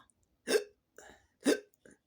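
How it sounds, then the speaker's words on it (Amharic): A person hiccups four times, close by and alone, with two sharp, loud hiccups alternating with two softer ones at a steady rhythm about half a second apart. "ስለዚህ ስቅታ ምን ይባላል? ሂካፕ ሂካፕ ሂካፕ።"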